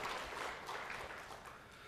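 A church congregation applauds during a Sunday worship service, a soft, continuous wash of clapping from many hands, fairly distant, with no voices over it.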